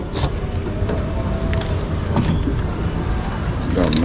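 A rented Renault Kwid heard from inside, a steady low engine and road rumble with small clicks and rattles, close and even throughout.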